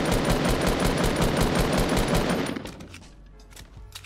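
Rapid automatic gunfire from a shooter video game, loud and dense bursts for over two seconds before cutting off, then a quieter tail of scattered distant shots.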